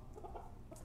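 A small seven-year-old chicken of about three pounds clucks softly in a brief, faint, murmuring burst against low background noise.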